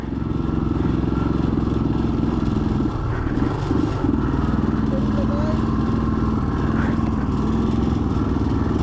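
A motorcycle engine drones loudly and continuously as it labours uphill on a road near Ooty, with a strained, rough tone and some rattling over the steady hum.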